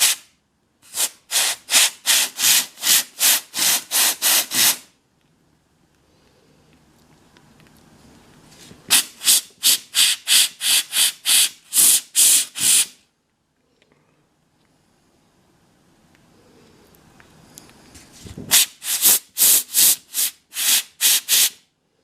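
Rotary tool grinding excess material off a homemade full upper denture, three bursts of rapid rhythmic rasping strokes, close and fairly loud, separated by quieter pauses.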